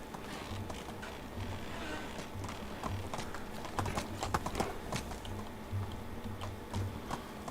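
Horse hooves clip-clopping in a steady walking rhythm in the video game Medieval Dynasty, close and clear, with occasional sharper knocks and ticks mixed in.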